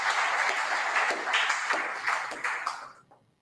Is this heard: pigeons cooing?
no